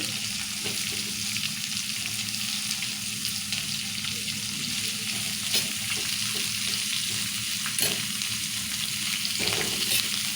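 Sliced onions and green chillies fry in a pan for a Telugu onion and red lentil dish, giving a steady, dense sizzle throughout with faint stirring scrapes mixed in.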